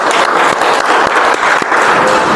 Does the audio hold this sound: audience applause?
yes